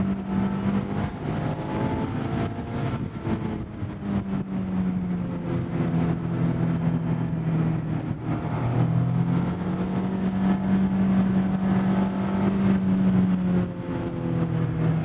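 A 2024 Mazda Miata ND3 Grand Touring driving on a track, its engine droning steadily and rising and falling in pitch as it revs through the gears. The sound carries on alone at moderate volume, with no talk.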